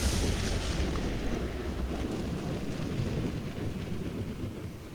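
A thunder sound effect played during a tabletop role-playing session, bursting from a statue: a sustained low rolling rumble, loudest at the start and slowly easing off, with no talk.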